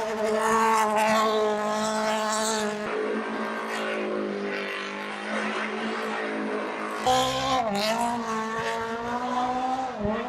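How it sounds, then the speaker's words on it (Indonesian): Toyota chief Akio Toyoda drifts a car around a parking lot, the engine revving loud and steady with harmonic whine, tires squealing and skidding throughout, briefly easing mid-slide before the revs surge again. "itu adalah Akio Toyoda, bos dari Toyota ngedrift di parking lot"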